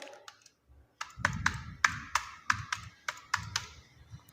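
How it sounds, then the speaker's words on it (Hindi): Keys clicking on a computer keyboard while entering particulars into an MS Word bill book, a steady run of sharp, close taps with brief pauses, no talking. "और उसके बाद यहाँ पे मैं टाइप करूँगी पार्टिकुलर्स।"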